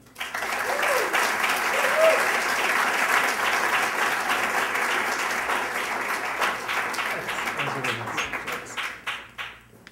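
An audience applauds to welcome a lecturer, sustained dense clapping that swells, holds and then thins out and fades near the end.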